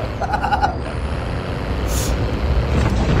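A truck drives along in a Call of Duty Mobile battle royale match, its engine rumbling low and steady and growing slightly louder toward the end, with a brief hiss partway through.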